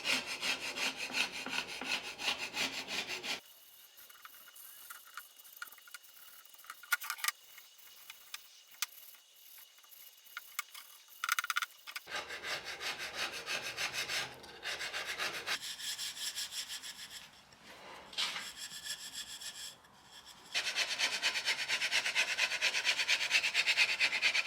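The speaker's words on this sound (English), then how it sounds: "Now I'm just using a combo of steel wool and a scraper to remove the stripper." Steel wool and a scraper rub and scrape paint stripper off a wooden 1950s telephone bench in a steady, close, rasping rhythm, with short pauses between strokes.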